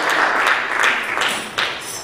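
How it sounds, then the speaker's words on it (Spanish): A church congregation applauds during a sermon, dense clapping swelling in several bursts over about two seconds, close and fairly loud. "Dale un aplauso al Señor"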